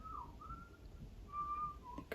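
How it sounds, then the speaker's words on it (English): A young boy practicing his whistling: faint, wavering whistled notes in short broken phrases drifting through a quiet room, with no talking. "my son's practicing whistling"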